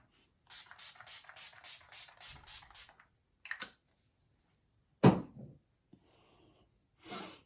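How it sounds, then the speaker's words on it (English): Nine quick, evenly spaced bursts of It Cosmetics Slay All Day setting spray hiss close to the mic, followed by a few scattered softer sprays and rustles with pauses between. "I would use the setting spray. I'm going to use this Itcosmetics Slay All Day."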